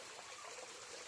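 Water trickling over rocks along a forest trail, a steady, soft broadband wash of flowing water close by with no talk over it.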